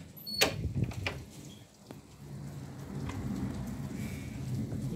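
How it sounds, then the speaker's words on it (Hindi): Steady rain falls outside after a snowfall, a soft continuous patter with a few sharper knocks and a brief dip early on, heard alone without voices. "बारिश जो है स्टार्ट हो गई है"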